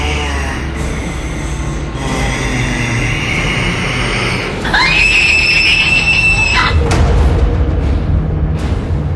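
An old woman screams with a sudden, shrill, sustained shriek lasting about two seconds. It rises over a loud, rumbling, screeching background drone in a dramatized story scene.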